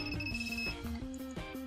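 A homemade Arduino ultrasonic parking sensor buzzer beeps in quick, regular pulses, sounding faint and thin against a steady electronic tone.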